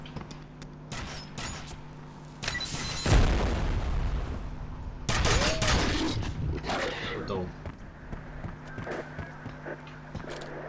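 Grenade explosions and gunfire in the video game F.E.A.R. Two heavy booms go off a couple of seconds apart, with scattered shots and rattling around them under a steady game background.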